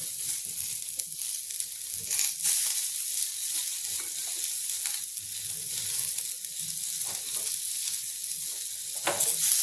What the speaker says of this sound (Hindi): गैस को स्लो रखेंगे और इसको ऐसे भूनेंगे।